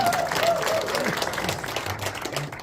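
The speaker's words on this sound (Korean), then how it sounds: "오늘 행사를 기획하시고 준비하신 홍성태 단장님에게 다시 한번 뜨거운 박수 부탁드립니다" An audience at a year-end forum gives warm applause for the event's organiser, a dense run of clapping with voices murmuring underneath that tapers slightly at the close.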